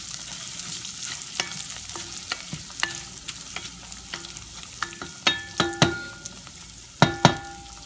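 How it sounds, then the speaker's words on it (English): Raw rice frying and browning in a pan for traditional Mexican rice, a close steady crackle of small pops and ticks with sharper clicks of grains against the pan, no voices. "I usually fry the rice till it's nice and brown in color."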